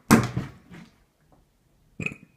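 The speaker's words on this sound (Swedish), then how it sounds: "Jag har rapat det varje video jag gör." A person burps loudly and close up: one long, rough belch, then after a short quiet gap a second, shorter burp. No other sound competes with them.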